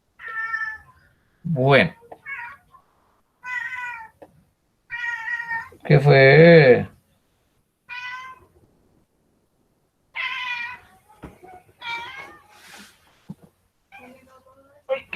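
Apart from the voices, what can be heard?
cat meowing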